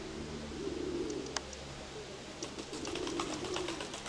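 Pigeons, including a grey bar-tailed bird, coo low and steadily near the observer, with soft taps and brief chirps scattered over the top and faint room noise behind.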